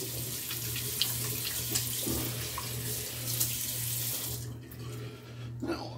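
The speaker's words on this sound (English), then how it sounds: "wash my hands off a little bit" Tap water runs steadily into a sink as hands are rinsed, a continuous close splashing hiss with small shifts where the hands move through the stream, and an underlying low hum.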